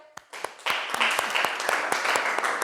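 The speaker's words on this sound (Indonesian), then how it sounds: "sekali lagi kasih tepuk tangan buat kalian" Students applaud in a classroom: a few scattered claps first, then a fuller burst of clapping that carries on steadily, with sharp individual hand claps standing out from the group.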